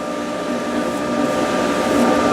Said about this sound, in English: big 4 horsepower 3-phase motor down there. I'm going to suck the air out of this.